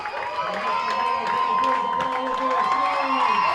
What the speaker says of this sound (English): the crowd is going wild here at Collins Purley Sports Complex